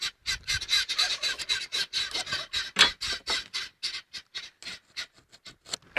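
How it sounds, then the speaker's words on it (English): Guinea fowl and turkeys call loudly and without letup, a dense run of harsh, rasping, rhythmic cries close by with no talk over them. "it's because of the guineas and the turkeys. They're being really loud right now."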